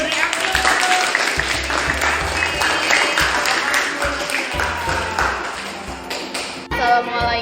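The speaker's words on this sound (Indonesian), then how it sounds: "Ya, kita beri aplaus." A class of students applauds with dense, continuous clapping that fills the room, loud and close. Chatter and voices are mixed in, and the clapping tails off near the end.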